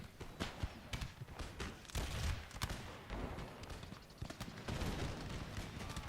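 Musket volleys from line infantry in an Empire: Total War battle at Naples, scattered sharp cracks and ragged bursts over a busy battlefield din, with faint hoof-like clatter underneath and no talking.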